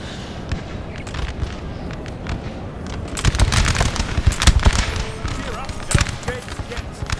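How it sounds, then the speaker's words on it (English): Musket volleys from massed infantry in a Napoleon Total War battle on the Grassy Flats map, sharp cracks scattered at first, then a denser rolling burst of flanking fire with repeated bangs. "Nice flanking fire coming in."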